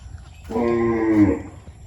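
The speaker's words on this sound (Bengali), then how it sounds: "এই যে আমার গরুগুলো দেখেন এখানে রেখে দিছি" A cow lets out one loud, close moo lasting under a second, standing among a farmer's three cows kept near a weekly market and riverside path, with quiet outdoor background before and after.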